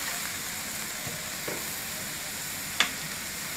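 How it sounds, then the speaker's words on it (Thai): Bamboo shoots and glass vermicelli stir-fry in a pan with a steady close sizzle, a couple of soft spatula scrapes and one sharp clink of utensil on pan. "ผัดให้เข้ากันแล้วจ้ะ"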